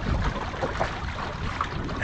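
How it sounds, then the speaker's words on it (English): A small boat motor sailing through the Florida Everglades wilderness, with a steady engine drone mixed with wind buffeting and water wash, continuous and fairly loud throughout. "And now we're motor sailing."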